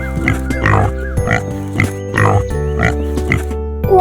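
A pig oinks and grunts in short repeated bursts, loud and close, with a sustained musical background underneath.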